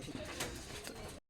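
A Rajshahi Giribaz pigeon coos softly in a short, close, steady murmur that cuts off abruptly.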